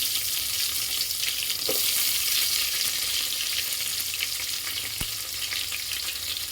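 Onion sizzles steadily in hot oil in a pan while bagara rice is cooked, a constant hiss with a couple of brief clinks or knocks, and no talking.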